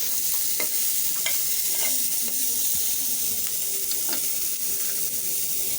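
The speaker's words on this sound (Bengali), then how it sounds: "পেঁয়াজটা আর শুকনো মরিচটাও আমি একটু ভেজে নেব" Onions sizzle steadily in hot oil, broken by occasional spatula clicks and scrapes against the pan, close and continuous without talking.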